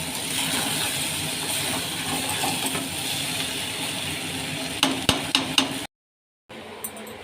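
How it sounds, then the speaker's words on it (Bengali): Chow mein with three sauces is stirred in a pan: a low sizzling hiss runs under scraping and stirring, a quick burst of four sharp clinks near the end, then a brief silence before the sizzle returns. "এ দেখো 3 রকমের সস দিয়ে দিয়েছি। হ্যাঁ, আর এইবার খুব ভালো করে একটু নাড়াচাড়া করে নেব,"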